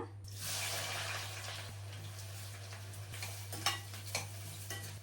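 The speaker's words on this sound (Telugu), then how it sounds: "ఇక్కడ ఈ ఉల్లిపాయలు ఫ్రై అవుతా ఉంటాయి." Sliced onions fry in hot oil for paneer biryani, a faint, steady hiss with a few soft clicks and taps near the end, over a constant low hum, with no voices.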